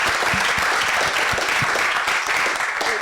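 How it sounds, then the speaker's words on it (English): Warm audience applause at the close of a panel discussion on innovation and startup growth, a full continuous wash of many clapping hands, fairly close, with no talking over it. "Let's give them a warm round of applause."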